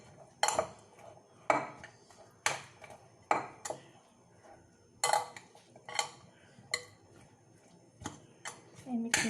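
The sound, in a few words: mixing tuna mushroom egg sandwich filling in bowl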